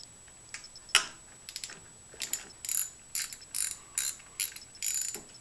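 Ratchet clicking as a 10mm socket works on the ignition coil of a 1999 Toyota Tacoma, in several short bursts of rapid, close-up clicks with brief pauses between them.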